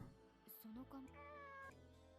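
A cat meows in the video game Nights of Azure, two short rising cries followed by a longer drawn-out meow, clear and close over a faint background music bed.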